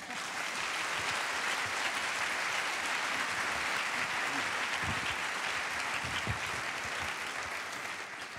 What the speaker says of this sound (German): Nochmal einen Applaus.